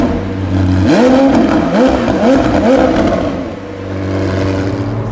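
A 2018 McLaren 720S Launch Edition twin-turbo V8 drones at a low cruise, then revs up in a few quick rising pulls with shifts before settling back to a steady hum, heard close from inside.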